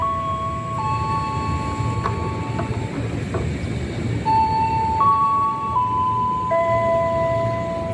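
A commuter train at an Indonesian station gives off sustained tonal horn or whistle notes that shift pitch in steps over a constant rumbling background.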